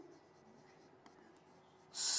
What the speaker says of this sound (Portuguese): Eu vou escrever aqui, ó.